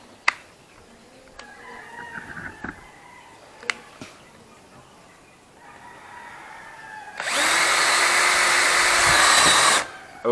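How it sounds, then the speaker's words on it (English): A Bosch GSR 180-LI cordless drill bores a hole into plywood with a loud, steady whine lasting about two and a half seconds, preceded by faint clicks and handling knocks. "Okay, it quickly drilled the hole into the plywood."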